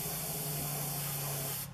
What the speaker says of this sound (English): not a bad painting little airbrush if you're looking for something